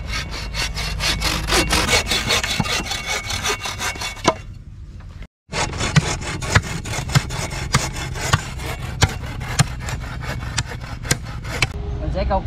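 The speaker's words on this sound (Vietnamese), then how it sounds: "Rồi giờ mình sẽ bắt đầu cưa cây để làm cột" A handsaw cuts through a tree trunk outdoors to make posts, rapid rhythmic rasping strokes close to the microphone, a brief pause partway, then steady sawing resumes.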